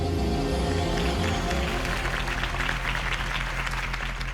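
Crowd applause follows a campaign speech in Batman: The Telltale Series, a dense, steady clapping roar, loud and close, sustained throughout, with a low drone beneath it.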